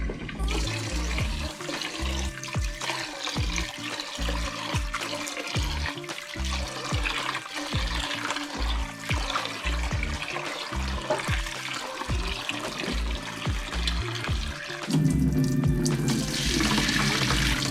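Running tap water splashes steadily into a sink as boiled soybeans are washed and rinsed for making tempeh, with rhythmic sloshing and rubbing of beans under the stream, close and continuous.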